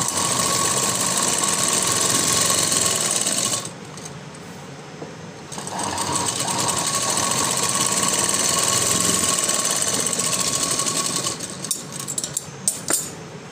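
A sewing machine running a double line of stitching on a floral frock: a loud, fast mechanical whir that pauses briefly, restarts for a long run, then stops with a few small clicks.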